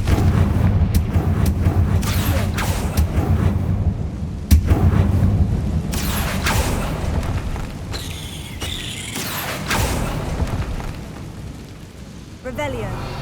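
Confringo fire spells blasting in the video game Hogwarts Legacy, several sharp booming bursts over a dense rumbling backdrop of game ambience and effects, with a final blast near the end.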